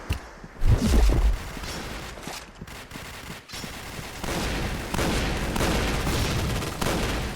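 Rapid gunfire in a first-person shooter video game: bursts of automatic weapon shots, a heavy blast early on, then dense continuous firing that stays loud throughout.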